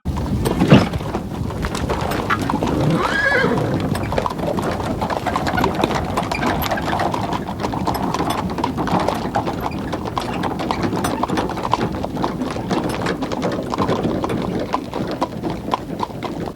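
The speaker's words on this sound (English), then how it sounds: "The horse carriage heads off" Horse carriage hooves clip-clop steadily at a walking pace on a dirt road over a low rumbling background, close and continuous throughout.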